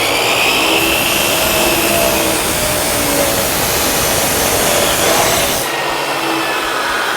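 A chop saw cuts through metal stock held in a vise, giving a loud, steady whining roar that runs for about five and a half seconds, then cuts off abruptly and leaves a quieter tail.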